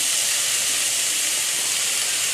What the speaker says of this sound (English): You just fry on high heat. The flame should be high.